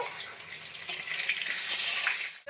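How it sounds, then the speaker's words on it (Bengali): Potato pieces with salt and turmeric frying in a pan for chicken kosha, giving a steady, bright, fairly loud sizzle heard alone until it cuts off abruptly. "লাল লাল করে আলুটা ভেজে নিলাম"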